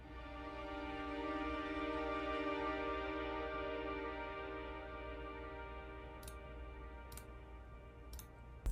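A sampled phrase from a producer's sound kit, a dense sustained chordal pad with low rumbling texture, steady and full, with a few faint ticking clicks appearing near the end.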